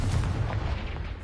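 A Confringo fire spell explodes in Hogwarts Legacy, a loud, dense burst with heavy low rumble that holds steady for over a second without fading.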